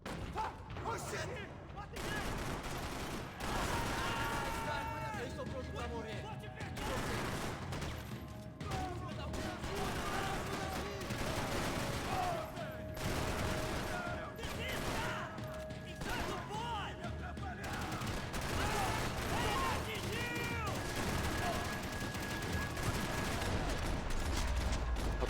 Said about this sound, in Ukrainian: А це з глока так стріляють, чи що?